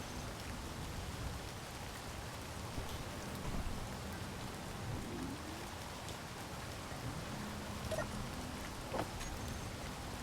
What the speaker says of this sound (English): the rain is actually falling down towards the planet